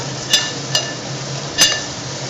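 Mutton keema cooking in a pan, a steady low frying hiss with three sharp metallic spoon taps against the pan spaced across the stretch, no voices.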